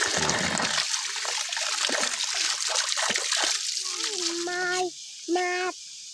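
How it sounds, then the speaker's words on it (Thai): Mustard greens washed in water, with sloshing, splashing and trickling close by, followed by a tonal whine near the end. A voice is briefly heard. "ล้างผักกาด"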